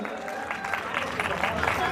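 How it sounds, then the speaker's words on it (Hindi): Audience applause for a man named Yasin at a bank foundation-day cultural program in Jodhpur, steady broadband clapping over two seconds with crowd murmur mixed in. "यासीन सर के लिए ताली बजाइए।"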